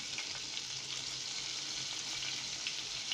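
Cumin seeds and asafoetida sizzle in plenty of hot butter for dal makhani, a steady, close, bright frying hiss running without pause and free of any talk.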